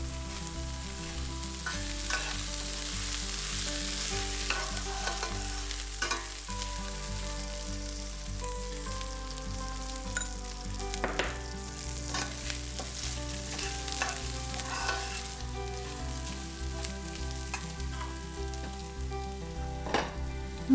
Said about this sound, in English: now adding to my vermicelli and going to saute it for a couple of more minutes